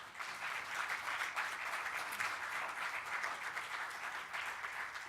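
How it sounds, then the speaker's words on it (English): A conference audience at a general assembly in Kingston, Jamaica gives a steady, full round of applause for the featured and keynote speakers, dense clapping sustained evenly for several seconds with no talk. "our featured speaker and our keynote speaker, deserve a big round of applause"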